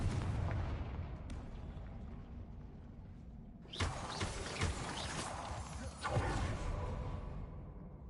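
The Confringo blasting spell goes off in a wizarding video game. A low rumbling ambience gives way to a sudden loud whooshing blast that leaves a long, crackling roar, with a second swell a couple of seconds later.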